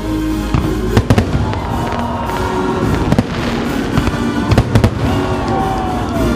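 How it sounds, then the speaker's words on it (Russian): A festive fireworks display over Samara on Russia Day, with repeated sharp bangs and crackling bursts coming in irregular clusters, loud and close, under a faint crowd murmur. "Завершился праздник красочным салютом."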